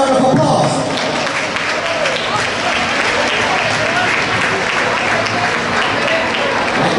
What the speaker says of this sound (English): Please, ladies and gentlemen, give them a round of applause.